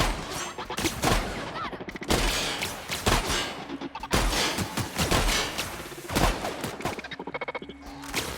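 Rapid, loud bursts of shotgun fire from the video game The Outer Worlds crack out in quick succession over several seconds, close and dominating the mix.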